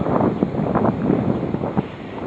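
Wind gusts buffet a microphone outdoors, a loud, rumbling low-end roar with uneven puffs and swells running through the whole stretch, no voice over it.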